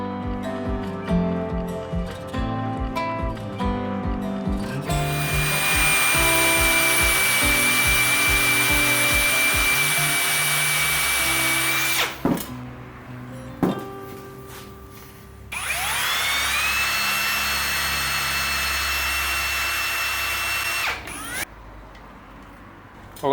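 Power drill boring into a seized bolt in the aluminium base of a lawn mower engine: a close, loud steady whine in long sustained bursts, with stops and restarts and some clicking mechanical handling between runs.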